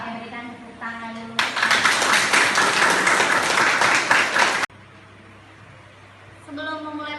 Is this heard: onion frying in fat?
no